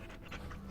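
A dog pants in the Dragon Age Origins video game, a quick steady run of soft breathy huffs, faint and brief against a dense low game background.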